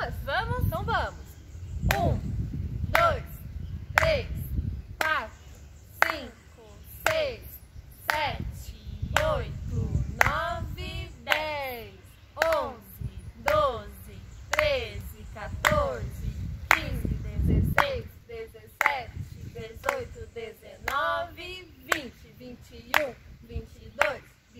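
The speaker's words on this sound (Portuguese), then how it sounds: "Vamos contar até 31? Batendo palmas?" Children clap their hands in a steady rhythm while counting aloud together up to thirty-one, sharp distinct claps alternating with young voices, close and fairly loud.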